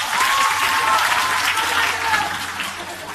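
An audience at a school documentary premiere, Government Laboratory High School, claps in loud, sustained, dense applause, with some voices mixed in.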